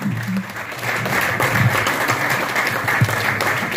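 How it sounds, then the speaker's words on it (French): An audience at an evening event for Camille applauds in a sustained, fairly loud burst of clapping that stays steady to the end. "on peut encore l'applaudir à titre."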